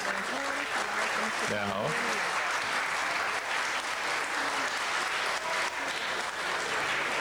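Steady audience clapping at a city council meeting carries on throughout, broad and even, while someone speaks briefly over it near the start.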